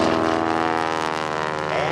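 A PT-17 Stearman biplane flies aerobatic loops and rolls at a 2009 Randolph AFB airshow, its radial engine and propeller droning loudly and steadily, with faint announcer commentary beneath.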